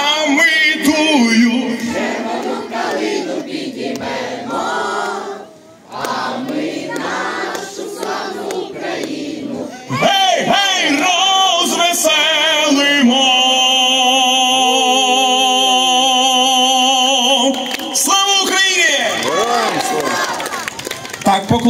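A crowd in Truskavets sings the Ukrainian song Chervona Kalyna, loud voices merging into one sustained chorus with music, a short pause near six seconds, then a fuller, steadier sung passage with held notes.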